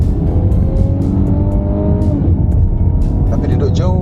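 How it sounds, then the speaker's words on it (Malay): Mercedes-Benz E300 engine while driving, a steady low hum with some harmonic rise as it accelerates, heard from inside the cabin under someone talking. "bunyi enjin dia pun"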